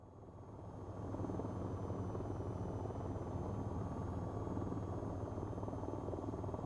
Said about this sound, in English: This is the slowest helicopter.